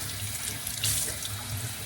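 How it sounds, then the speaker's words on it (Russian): Tap water runs steadily into a sink while the roots of a Japanese orchid are rinsed, making a continuous close splashing rush with no talking. "полностью водичкой. Уж видите, какая вода грязная течет."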